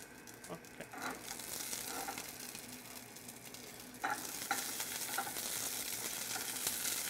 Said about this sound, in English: I don't want to burn them, I want to glaze them. So I'm going to saute them up a little bit